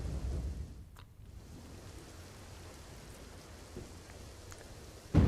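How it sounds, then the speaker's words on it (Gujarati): Heavy downpour in Nadabet, Banaskantha, on the India–Pakistan border: a faint, steady wash of rain hiss that runs unbroken, with a brief louder burst at the very end. "નડાબેટમાં ધોધમાર વરસાદ"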